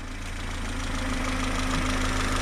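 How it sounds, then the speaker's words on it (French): A car engine idles steadily after a rebuild while being run in, giving a continuous, close, even drone with a faint rhythmic knock and no speech over it. "il est en train de rôder le moteur"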